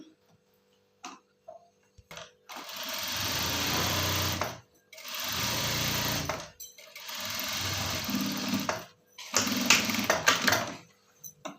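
Sewing a second parallel stitch line beside the first on a readymade top, a sewing machine whirs close by in four steady bursts broken by short pauses, with faint clicks between runs.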